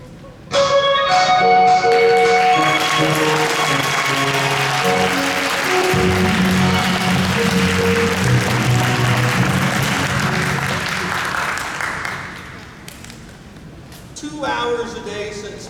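A theater audience applauds after a county youth stage performance of Ransom of Red Chief, with steady clapping under sustained music and voices, fading toward the end before a brief swell returns.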